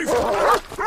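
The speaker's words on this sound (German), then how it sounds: "Hunde!" Dogs bark and yip in Red Dead Redemption 2, several sharp calls close up and loud, filling the whole second with a brief dip before a final bark.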